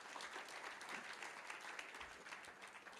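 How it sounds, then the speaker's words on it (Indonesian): Congregation applauding in church, a dense, even burst of many hands clapping that keeps up steadily, fairly faint and without speech. "Kasih tepuk tangan dong buat Tuhan kita."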